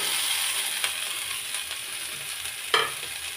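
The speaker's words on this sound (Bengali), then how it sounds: "এখন আমি দিয়ে দেবো করলাটা" Bitter gourd frying in a pan with potatoes, a steady close sizzle throughout with a few sharp utensil clicks and scrapes, the loudest near the end, with no talk.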